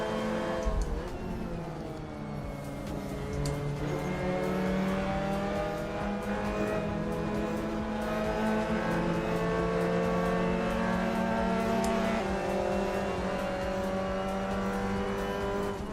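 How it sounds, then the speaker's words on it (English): Race car engine revving in the Assetto Corsa sim racing game, a loud sustained howl that climbs and drops in pitch with gear changes, close and steady throughout with no talk. "The sound of the engine doesn't line up with the RPMs that well."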